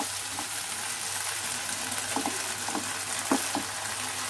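Bhat posto, a poppy seed dish, being sautéed in a pan, a constant soft sizzle with a few faint stirring scrapes, close but quiet, no talking.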